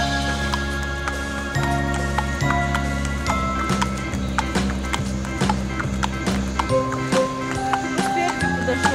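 A horse walks with a child riding it, hooves clip-clopping in a steady rhythm, with adults talking over the hoofbeats and a faint background hum.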